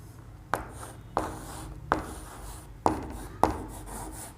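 Writing notes on a board, close scratchy strokes broken by five sharp taps at uneven intervals, with no voice over them.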